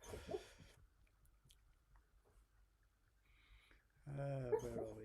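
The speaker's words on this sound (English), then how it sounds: "That's my dog in the background having night tremors." A sleeping dog having night tremors lets out soft whimpers and small yips, quiet and intermittent at first, then a louder burst of whining near the end.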